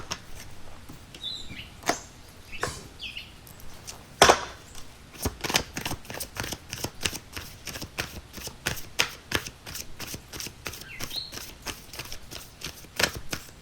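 Tarot cards are shuffled by hand in a steady series of crisp riffles and flicks, close and fairly loud, with brief pauses and no voices.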